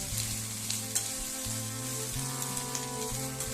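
Chopped ivy gourd sautéing in a hot pan, a continuous close sizzle with scattered spatter and occasional scraping stirs, with no voices.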